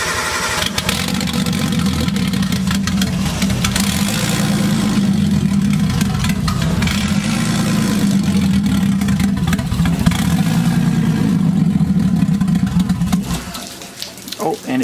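A Nissan 240SX with a big-turbo RB engine cranks, fires up and settles into a loud, rough idle with a pulsing exhaust note, running steadily for several seconds before stumbling and dying near the end.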